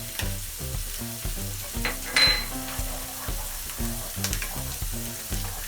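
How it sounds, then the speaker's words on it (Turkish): Pine nuts fry in melted butter in a pan with a steady crackling sizzle, interrupted by occasional scrapes and clinks of a utensil against the pan. A melodic tune plays underneath. "Eriyen tereyağımızın içerisine çam fıstığımızı atıyoruz."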